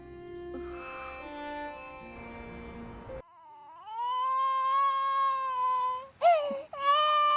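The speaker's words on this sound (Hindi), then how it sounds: "जंगल में बच्चे की रोने की आवाज कहाँ से आ रही है?" A wavering, high-pitched infant cry in a forest rises and falls over several seconds, after a stretch of soft tonal background sound.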